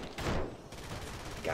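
A gunshot burst in the video game Urban Chaos: Riot Response, a loud clattering volley of rapid shots lasting about a second and a half.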